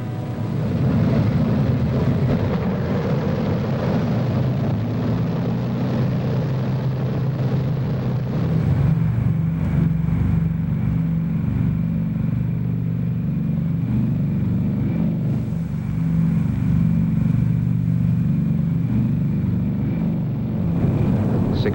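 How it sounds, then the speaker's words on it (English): B-29 Superfortress bombers taking off during World War II, a loud sustained drone of heavy piston engines that swells and shifts in pitch as the aircraft roll and climb, steady throughout. "The men are ready for the takeoff."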